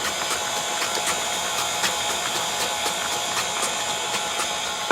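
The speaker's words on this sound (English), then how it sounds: "And right now I have this KitchenAid on 2." A KitchenAid stand mixer runs on speed 2, mixing lemon pound cake batter after the eggs go in. It gives a close, steady mechanical whir with a regular clicking gear rhythm.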